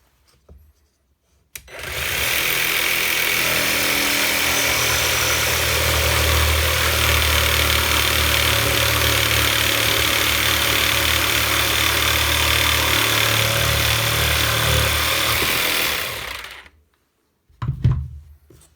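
A Parkside PSTKA 12 A1 12V cordless pendulum jigsaw makes a cut, running steadily and loudly for about fifteen seconds with a continuous buzzing drone alone, then stopping with a brief clatter.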